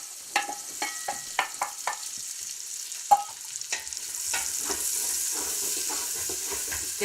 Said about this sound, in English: I'm just sauteing it in the bottom of my soup pot